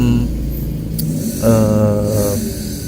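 Motorcycle engine idling roughly and unevenly as though running short of fuel, a low loud rumble that wavers, with a brief rise in pitch midway, close up.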